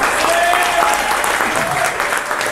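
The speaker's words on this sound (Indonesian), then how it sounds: "saya ingin Anda tepuk tangan dulu, tepuk tangan ya." Audience at a networking seminar in Jakarta applauding on request, a loud, dense burst of many hands clapping together, close and continuous with no talk over it.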